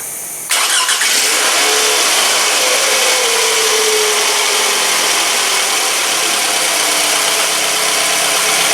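A 2007 Scion tC with a battery-light fault cranks and its engine catches, then settles into a steady, loud idle close by with no talk over it.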